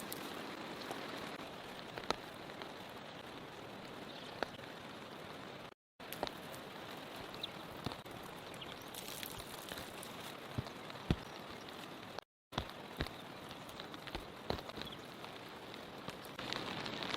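Steady rain pattering on a car at night during a cold, rainy night spent sleeping in the car, a faint continuous hiss with scattered drop ticks, no voices.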